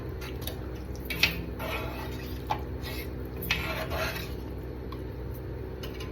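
A spoon scrapes and clinks against a pot while coconut milk is stirred into beef curry, a few sharp metallic taps and soft rubbing strokes over a quiet low background hum.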